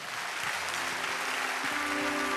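A church congregation at a conference applauds, steady, dense clapping that fills the space throughout with a few voices mixed in.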